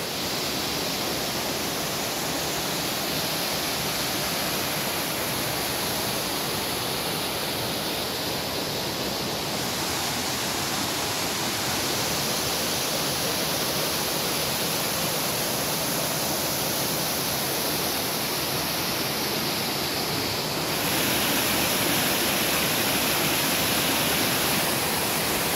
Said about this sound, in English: We hear running water.